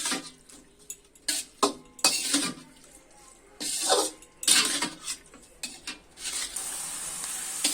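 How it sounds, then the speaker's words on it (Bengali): Poppy seed paste and spices are sautéed with Malabar spinach in a pan: bursts of sizzling and scraping stirs with spoon clatter against the pan, loud and close, in an irregular rhythm with no talking. "এখন আমি মশলাগুলো দিয়ে ভালোভাবে কষিয়ে নিব।"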